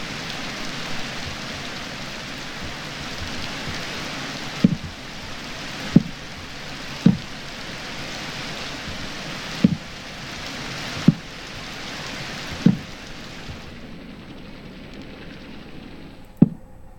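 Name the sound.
rain in the video game Minecraft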